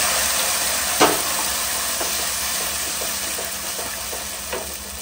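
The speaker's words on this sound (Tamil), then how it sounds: "இப்போ பட்டர் வந்து லைட்டா மெல்ட் ஆனதும் நம்ம வதக்கி வச்சிருக்கிறது வந்து சேர்த்துக்கலாம்" A sautéed ground paste goes into lightly melted butter in a pan, giving a constant close hiss and sizzle with a faint clink of the utensil near the start and a few soft stirring scrapes afterward.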